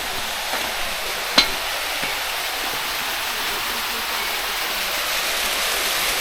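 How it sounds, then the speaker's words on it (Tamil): A small waterfall in the meadows at Vagamon gives a steady, close, hissing rush of flowing water that stays even throughout, with one brief knock near the start. "வாட்டரோட ஃப்ளோ ஆகிற சத்தம்"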